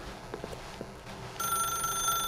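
A telephone rings in The Stanley Parable video game, its bright electronic trill starting abruptly partway through over a dull room tone, after a few soft footstep-like thuds.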